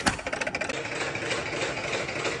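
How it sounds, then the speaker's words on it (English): An old water-cooled 5-horsepower engine, about 127 years old, runs steadily with a dense mechanical clatter and rattle, starting with a few uneven beats before settling into a continuous close, loud chugging. "So this is technically a liquid-cooled engine"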